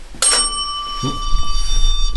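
A small bell rings sharply once inside the USS Batfish submarine during a paranormal investigation, a bright metallic tone with a long shimmering decay that fades under low rumbling background noise.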